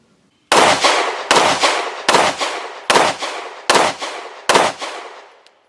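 A Springfield Armory Echelon handgun fires six loud, sharp shots at a steady, deliberate pace, each followed by a brief ringing decay. There is no talk between the shots.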